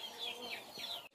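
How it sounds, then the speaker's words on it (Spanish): Hens and a rooster cluck and chirp softly while feeding, a few faint calls at moderate distance over steady background noise. "ahí como pueden ver, están comiendo nuestras gallinitas y nuestro gallo"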